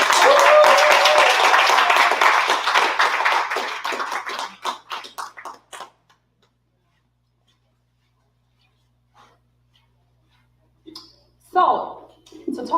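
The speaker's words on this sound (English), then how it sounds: "Can we please give a round of applause?" A crowd applauds loudly with dense clapping that thins into scattered claps and fades to silence, followed by a few brief sounds near the end.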